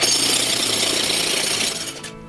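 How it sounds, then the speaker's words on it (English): A large jackhammer pounds loudly and continuously through a concrete slab with no reinforcement mesh, a dense rapid hammering that cuts off abruptly near the end. "It breaks up easily using a large jackhammer like this."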